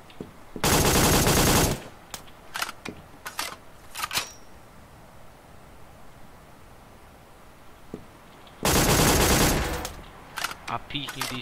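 AK rifle fire in a battle royale video game: two long sustained automatic bursts of about a second each, near and loud, with scattered sharp single shots between them and toward the end.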